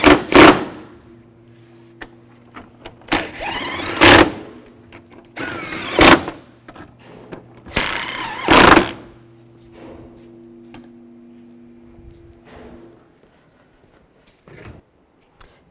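Headlight bolts on a 2007-13 Chevy Avalanche being snugged down with a hand tool: a loud series of sharp metallic clicks and ratcheting bursts in a quiet garage, with a few fainter taps toward the end.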